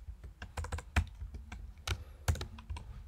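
Typing on a Mac computer keyboard while entering Python commands in a terminal, with irregular clusters of sharp key clicks and a few louder keystrokes close to the microphone.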